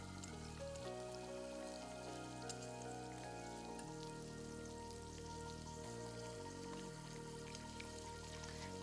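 Beltfish pieces fry over medium heat in a pan, a steady, even sizzle with a fine crackle that holds level throughout with no one speaking.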